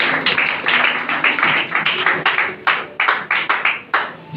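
A church congregation at a French-language Sunday service claps in a brisk, irregular run of sharp hand claps, close and fairly loud with no talking over it.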